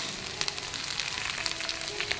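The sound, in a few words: vegetables frying and sizzling in a pan for khichdi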